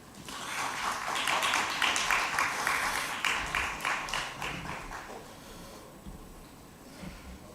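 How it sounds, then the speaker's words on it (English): Audience applause at a Capital Markets Week event as dignitaries take the stage, a dense patter of many clapping hands swelling over the first few seconds and then tapering off to scattered claps, heard from across a hall with no one speaking. "With a big round of applause, ladies and gentlemen."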